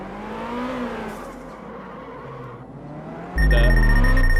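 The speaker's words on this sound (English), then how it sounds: "I'm just going to go up and do handbrake turns" A car doing handbrake turns in the drifting video game Absolute Drift: a whining engine tone rises and falls steadily, then a sudden loud skid with a shrill squeal bursts in near the end.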